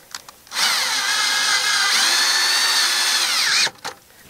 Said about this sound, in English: So just drill right through there